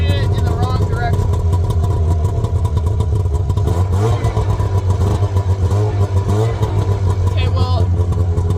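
The engine of a 1993 Arctic Cat 440 Jag snowmobile runs after a cold start, a loud close two-stroke drone with uneven revving and clatter, with a voice talking over it.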